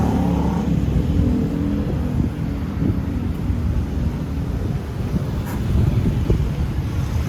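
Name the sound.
heavy street traffic noise in Naga city, Philippines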